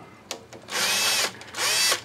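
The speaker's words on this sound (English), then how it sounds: "I drilled some small holes right there" A small power drill whines in two close, loud bursts of about half a second each while boring small holes into an old Evinrude outboard motor. Short clicks come between the bursts.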